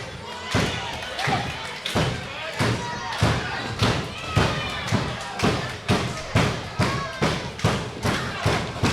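A wrestler pounds on the wrestling ring at a live event, a steady series of loud, heavy thuds about once every second, with a commentator talking over the banging.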